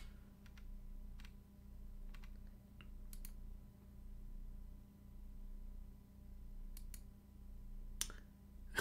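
Keystrokes on a custom-built Zephyr R2 (Healios) 65% mechanical keyboard come in scattered, uneven clicks and clacks, some in quick bursts, faint over a steady low hum and room noise.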